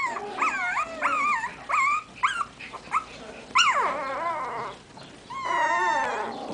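Morkie puppies whimper and yelp in high, wavering cries, several overlapping bursts close by with a few low growls underneath and no talk.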